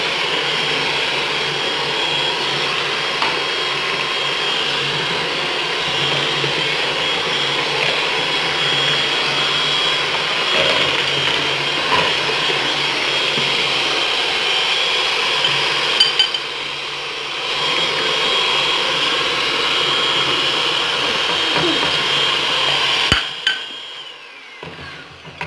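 Chocolate cake batter of oil and cocoa is beaten with a whirring electric mixer, a loud steady motor drone that holds for over twenty seconds, dips briefly in the middle, then cuts off near the end.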